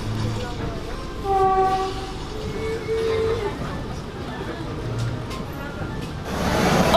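A Vande Bharat Express 2.0 train pulls into New Delhi station, a steady rumble of rolling carriages with a couple of short horn or whistle tones early on and station noise throughout.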